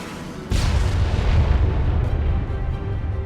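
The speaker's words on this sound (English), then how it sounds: "Is that enemy fire? Enemy fire!" Artillery fire in the military game ArmA 3: a sudden loud boom hits after a short quiet lead-in, then a heavy rumbling roar sustains and slowly fades, with no talk over it.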